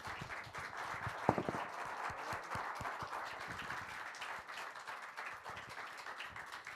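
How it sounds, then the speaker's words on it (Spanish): Audience applause fills the room after a film screening, a steady wash of many hands clapping throughout, with a few sharper claps standing out near the start. "Un aplauso grande."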